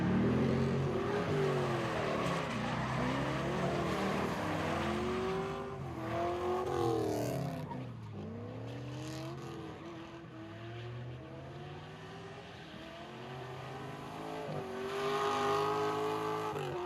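A drift car in a Need for Speed racing game, an E46 M3 fitted with an LQ4 engine, revs hard and skids, its engine pitch rising and falling in repeated sweeps over tire squeal, loud and continuous throughout.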